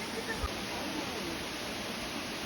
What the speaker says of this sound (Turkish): Çok muazzam güzel bir şelale.